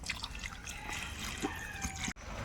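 Water goes into a pan of rui fish head curry with pui greens, a steady soft trickle and splash running for a couple of seconds, close but fairly quiet, broken by a brief dropout near the end.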